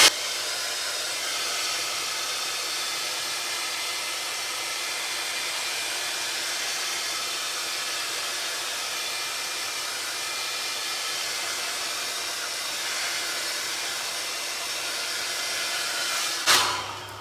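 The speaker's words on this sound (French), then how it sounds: "On va donner un petit coup de sèche-cheveux." A hair dryer blows steadily for a long stretch to dry paint, a constant loud hiss ending with a brief click as it shuts off.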